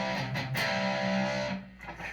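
An electric guitar with distortion plays a two-finger power chord, a loud, thick, buzzing chord that rings for over a second and then decays, followed by a shorter strum.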